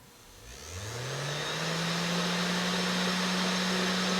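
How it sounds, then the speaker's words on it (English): A DC motor spins up from rest, its steady hum rising in pitch over the first second or two and then settling into a loud, constant whine with broadband whirring, close and alone without talk. "This is a DC motor"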